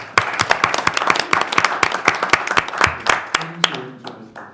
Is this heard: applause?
yes